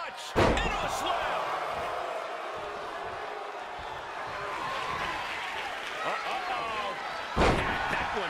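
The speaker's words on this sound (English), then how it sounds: "Cobra clutch! And a slam!" A wrestler is slammed to the mat in WWE 2K23, with two heavy, booming impacts several seconds apart over a steady roar of crowd noise and commentary.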